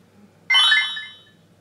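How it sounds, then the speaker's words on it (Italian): A mobile phone gives a single bright chiming notification tone that starts abruptly, rings clearly against near silence and fades out over about a second. "è stato il cellulare che mi ha mandato una notifica"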